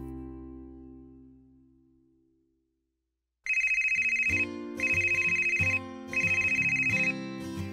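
A fading tone trails into silence, then a telephone rings loudly and electronically in three evenly spaced bursts.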